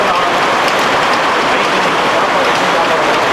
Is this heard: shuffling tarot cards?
no